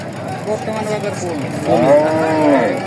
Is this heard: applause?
no